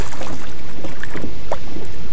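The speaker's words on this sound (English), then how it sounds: "It's windy out here." Wind gusting over open water around a bass fishing boat near a bank, a steady broad rush with faint splashes and knocks against the hull.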